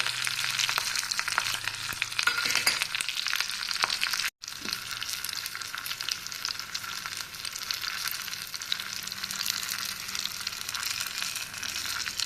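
Garlic, coriander and curry leaves sizzle steadily in hot oil for a tempering, a loud continuous crackle with faint stirring and one brief cut-out, no voices.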